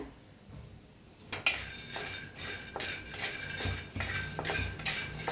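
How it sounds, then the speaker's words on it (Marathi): Peanuts being dry-roasted in an iron kadhai, with repeated close metallic scraping and clinking strokes as a spoon stirs them, coming in irregular bursts throughout. "शेंगदाणे भाजून घेऊया आपण लोखंडीच्या कडेत बनवूया"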